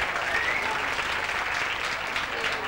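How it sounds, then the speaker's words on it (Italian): Audience applause for the jury president at a Miss Graticolato Romano beauty pageant, an even, sustained wall of many hands clapping at moderate distance with no break. "Un applauso alla nostra presidente."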